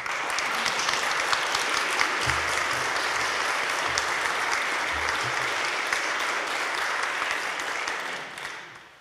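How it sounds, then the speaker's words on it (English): A church congregation gives sustained, dense applause for its reverend, loud and steady for about eight seconds before tapering off, with a few low voices murmuring underneath. "I'm so glad they applauded you spontaneously"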